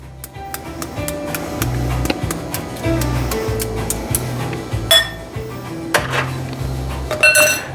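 A butter knife taps and cracks the shell of a hard-boiled egg held over a colander, making a series of sharp, close clicks and clinks at an irregular pace.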